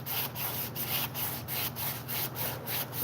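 Sandpaper scrubs back and forth over very soft metal on a chainsaw being restored, making a loud, close rasping hiss in quick regular strokes, about three per second, with no one talking.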